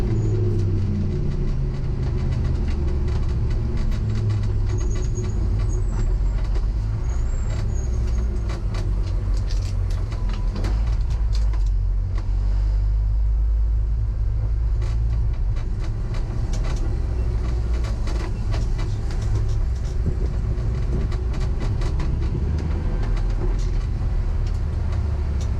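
A race car rolls into the pits at Laguna Seca, its engine droning loud and steady in a low rumble, with road and wind noise and no talk.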